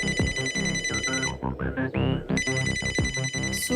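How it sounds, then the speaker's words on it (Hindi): A phone ringtone for an incoming call plays loud and close as a repeating bright melodic tone, cutting out briefly midway before resuming, with music-like layers underneath. "सुरीली का फोन"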